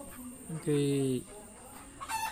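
A sick egg-laying hen gives a few short clucks, then one longer drawn-out call, close by and moderately loud, with quiet farmyard background.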